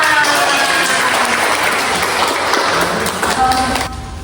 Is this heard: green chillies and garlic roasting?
no